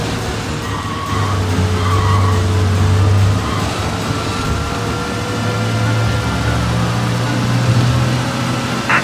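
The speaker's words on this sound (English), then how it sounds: "We lose them by driving real fast and getting clear of them." A car in Mafia: Definitive Edition drives fast with its engine droning loudly, and tires skid and squeal through much of the stretch. No one speaks.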